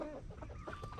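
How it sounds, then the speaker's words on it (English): Several runaway chickens cluck close by in short, busy bursts, a dense overlapping flock chatter with no talk over it. "We got some runaway chickens,"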